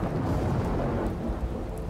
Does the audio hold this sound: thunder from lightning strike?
yes